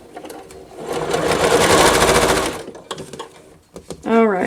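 A sewing machine runs in a fast, steady burst for about two and a half seconds, stitching pairs of quilt patches for a Sunny Day quilt block, then stops. A few soft handling clicks follow, and a brief voice comes in at the end.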